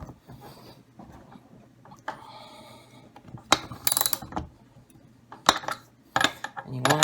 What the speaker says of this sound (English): it looks like that rivet is getting squashed